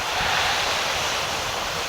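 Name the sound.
strong wind at a lakeside lookout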